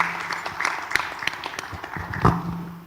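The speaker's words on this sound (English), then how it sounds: "Let's give them a big round of applause." Steady applause from a crowd at the opening ceremony of an international mayors' forum, dense clapping that holds at an even level throughout without any speech.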